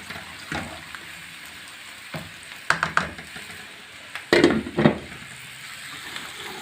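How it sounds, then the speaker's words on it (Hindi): Potato pieces fry in a pan beside capsicum: a low background sizzle broken by a few loud clattering knocks and scrapes of stirring, close by, with no talking. "देखिए आलू फ्राई हो रहे हैं।"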